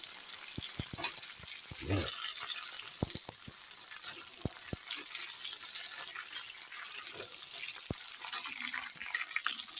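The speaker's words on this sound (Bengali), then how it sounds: "এখন ভালো করে সবজিটা কষিয়ে নিই" Vegetables including pointed gourd sauté in a pan for khichuri, giving a steady sizzling hiss with scattered clicks and spoon scrapes throughout.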